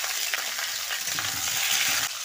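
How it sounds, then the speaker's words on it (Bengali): Potatoes sizzle and fry in hot oil in a kadai while being stirred, a constant crackling hiss with occasional scraping stir sounds, close and steady throughout with no talk. "আলুগুলো কষে নেব"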